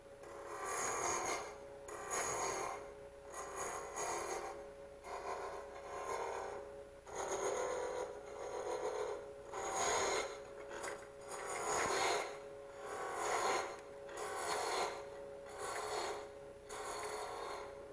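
A hand rasp wastes away wood at the front end of a workpiece in repeated rhythmic strokes, about a dozen scraping rubs with short pauses between them, close and fairly quiet, with no talk.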